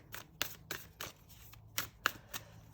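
Tarot cards being shuffled by hand, a series of soft, quick papery riffles and slaps arriving in an irregular rhythm, close and fairly quiet against a faint low background hum.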